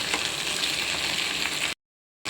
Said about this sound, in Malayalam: ഇത് നല്ല രീതിയിൽ കിടന്ന് വേവട്ടെ എണ്ണയിൽ മുരിച്ചെടുക്കാം